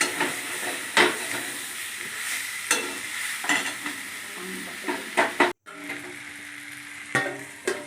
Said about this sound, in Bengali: বারবার করে খুন্তি দিয়ে নেড়ে নেড়ে এপিট ওপিট করে চিকেনটাকে ভালো করে মশলার সঙ্গে কষিয়ে নিলাম